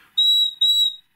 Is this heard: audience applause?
no